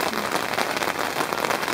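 Heavy rain pours down on a tent in a dense, steady hiss and patter, close and continuous, with no talking.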